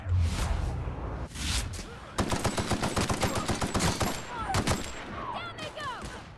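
Rapid automatic gunfire bursts in The Outer Worlds, a dense string of sharp close shots after a couple of heavy single blasts, loud and rhythmic, then trailing off.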